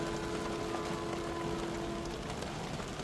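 Steady rain pours down on a rainy Sunday, a dense even hiss of drops on surfaces with a faint tonal hum running beneath.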